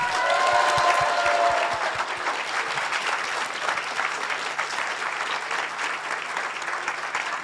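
A crowd applauds the director of the Cannes local mission at a live event, a loud thick burst of clapping that begins with a few sharp distinct claps, then settles into a sustained, even roar of hands.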